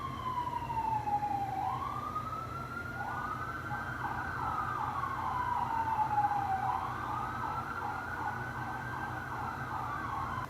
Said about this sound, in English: like I was saying before the sirens cut me off